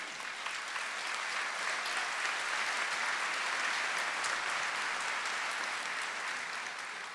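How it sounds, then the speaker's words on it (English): Audience at a college commencement ceremony giving sustained applause, a dense, even wash of many hands clapping that holds steady throughout. "You deserve the applause, too, enjoying that."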